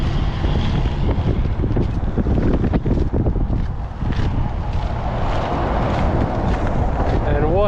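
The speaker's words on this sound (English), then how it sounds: "So it is windy up here." Strong wind buffeting a microphone on a high, rocking walking bridge over the Susquehanna River in winter: loud, continuous low rumbling gusts that surge and ease, with a person talking through parts of it.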